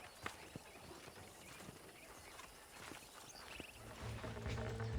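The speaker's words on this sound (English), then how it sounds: "These are fine horses." Horses' hooves clip-clop at a walk in Red Dead Redemption, a series of light, irregular knocks fairly faint against a quiet outdoor background, with a low rumble swelling near the end.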